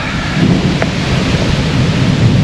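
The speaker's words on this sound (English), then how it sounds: "it is pouring down rain" Heavy rain pours down steadily on a camping van at night in Iowa in a dense, continuous wash, with a low rumble of thunder rolling underneath throughout.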